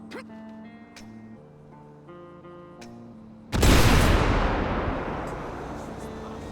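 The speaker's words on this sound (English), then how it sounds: "And lastly, let's do a grenade." A grenade detonating in GTA V with the Redux mod: a sudden, loud, broadband blast that rolls off into a long rumbling decay, preceded by quieter in-game ambience with engine hum and light tones.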